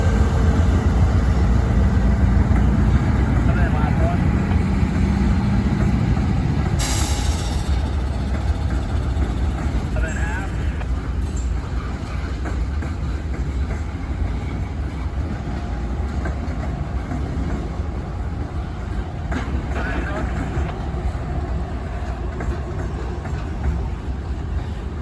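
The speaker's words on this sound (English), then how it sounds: "The first train of the day would be Norfolk Southern 16G, with the Union Pacific GE trailing third out." Norfolk Southern 16G freight train, with a Union Pacific GE locomotive trailing third, rumbles past in the hills near Pittsburgh, a loud sustained roar of rolling cars with rhythmic rail clatter and brief squeals, no voices.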